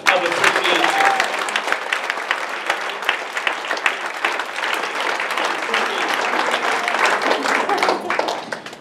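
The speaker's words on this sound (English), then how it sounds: "I think it would be fitting if we would give both of them a big hand clap of appreciation." Church congregation giving a hearty round of applause and hand clapping, dense and sustained at close range, with a voice briefly heard over the clapping near the start.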